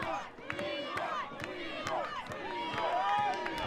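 A wrestling crowd at an Invictus Pro Wrestling show cheering for Big Game Leroy, a steady roar of voices with shouts and whoops rising over it, fairly distant and sustained throughout.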